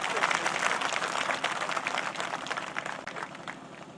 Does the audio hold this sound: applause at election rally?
yes